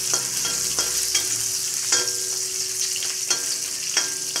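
Garlic, cumin and green chillies frying in hot oil, a loud, bright, continuous sizzle punctuated by regular spoon strokes roughly every half second to second, close up with no talking.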